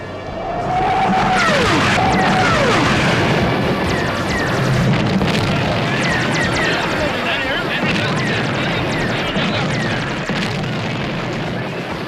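Weapons fire in an animated fantasy battle, a dense continuous barrage of loud booms and crashes with sweeping tones, sustained at high volume throughout.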